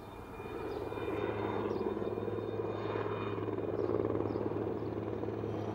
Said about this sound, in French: Tiens, une rotation d'hélicoptère.